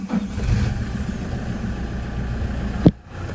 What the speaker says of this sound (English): if I go and start the car, which I will do quickly